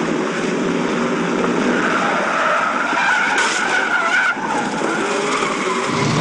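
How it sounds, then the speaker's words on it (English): Stunt car skidding through repeated 180-degree spins on the Death Race set, a loud sustained tire screech layered with roaring engine noise, close and continuous with no talking. "he was doing 180s and reverse 180s and forward 180s and banging cars"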